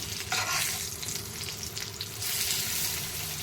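Stuffed green chillies frying in a pan as they are turned over, a full hissing sizzle that swells after a brief dip, with faint scraping of the turner, close and steady, no speech.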